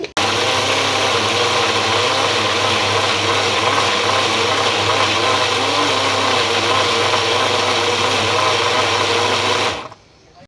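A mixer grinder blends eggs into a plant nutrient mix, giving a loud, steady, close whirring motor drone that runs without a break for about ten seconds and then cuts off abruptly.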